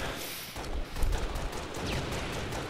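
Gunfire in a multiplayer shooter match, with bursts of shots rattling at mid distance over steady ambient noise and no speech.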